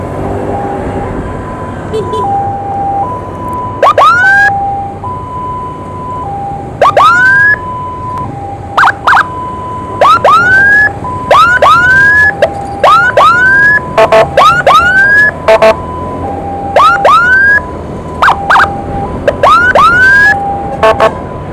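An ambulance from a maternal and child hospital runs its siren in traffic: a loud, close wail that alternates steady tones with repeated rising whoops and sharp yelp bursts, keeping a regular pattern throughout.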